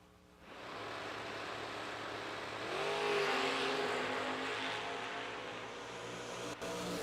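Drag racing cars, among them a Rambler wagon and an NHRA Super Street machine, launching and accelerating hard in a sustained loud engine roar that climbs in pitch and holds, with no talk.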